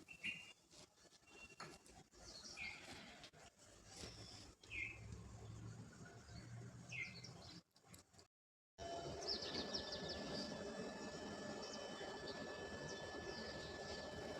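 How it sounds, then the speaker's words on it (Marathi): Birds chirp and call at intervals in the dark early-morning quiet of a rural home, moderately distant, over a steady background hiss; there is a brief dropout partway through, then a denser, louder stretch of ambience. "पक्ष्यांचा आवाज वगैरे किती छान येत आहे."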